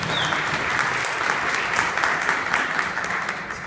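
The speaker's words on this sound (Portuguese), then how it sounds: "Palmas" Steady applause from a crowd, dense and continuous throughout, fairly loud with faint voices mixed in.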